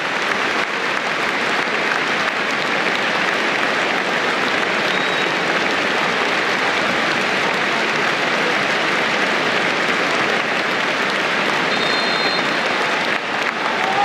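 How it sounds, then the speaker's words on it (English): Sustained applause from a large crowd at Cardiff City Stadium before a Wales versus Turkey football match, steady and dense for the whole stretch, with no voices standing out. "Warm applause all around the Cardiff City Stadium as we remember them"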